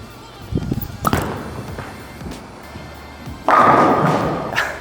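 A bowling ball thrown down an alley lane, with scattered thuds and knocks early on, then a sustained rolling rumble that starts abruptly and fades slowly, close and moderately loud.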